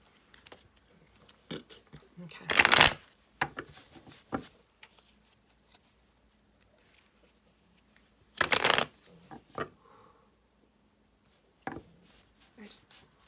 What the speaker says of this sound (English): I'm really being asked to pull from my little oracle deck here.